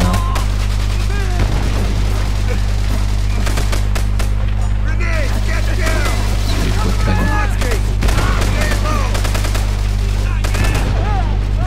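Gunfire from a shooting battle in Call of Duty: World at War on the Wii, with repeated bursts of rapid shots and single cracks over a constant low drone, with voices talking in between.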